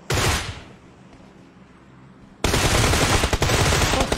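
Rapid automatic gunfire in a video game, a loud close burst that cuts off quickly, then after a short lull a second heavy, sustained burst with no talk.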